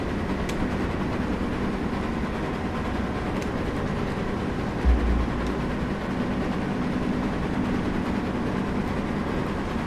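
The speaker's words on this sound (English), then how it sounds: "that chuffing, the chuffing noise it's making right now is really satisfying" LNER J21 steam locomotive running through a tunnel in a railway simulation game, a dense, loud, enclosed roar of working exhaust and rolling noise, steady throughout with no talk.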